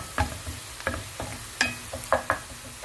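Tripe (matumbo) cooks in a pan with ginger garlic paste, several distinct scrapes and clinks of a utensil at irregular intervals over a faint low sizzle, close by and without talking.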